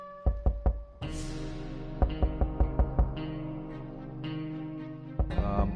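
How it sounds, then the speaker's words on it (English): Door sounds from the survival video game 60 Seconds come as a series of sharp, close knocks in short bursts, with a ringing tonal bed underneath and a louder scraping swell partway through. "I heard the door."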